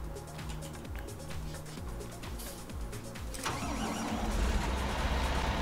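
A Fendt tractor's diesel engine in Farming Simulator 19 chugging steadily at low revs, then rising to a louder, rougher drone as it speeds up, with no talking.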